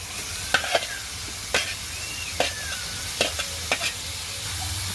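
Taro stolons frying in a pan make a constant low sizzle, while a spatula scrapes and stirs them in several sharp, close strokes spread across the clip.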